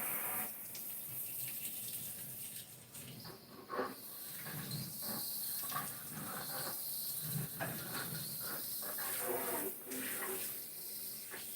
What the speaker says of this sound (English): We rinse the inside of the bowl, then we rinse the outside of the bowl.